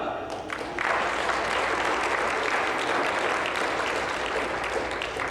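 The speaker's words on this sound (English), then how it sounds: "Give them a hand clap." Audience applause breaks out at an evening revelation seminar as six women line up on stage, starting after a brief pause and holding as a steady, dense wash of clapping to the end, with a faint voice underneath.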